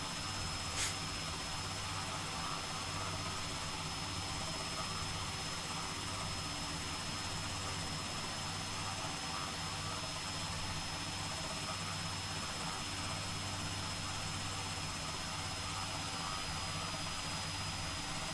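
Steady low rotor drone and whining turbine of a Robinson R66 helicopter settling down to land in a flight simulator, continuous and even throughout with a faint high tone on top.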